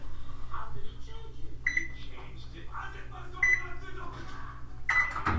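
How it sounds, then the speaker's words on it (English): Microwave oven melting chocolate and butter: a steady low hum runs throughout, with three short electronic beeps spaced apart as a child and an adult talk over it. "she is going to melt it in the microwave"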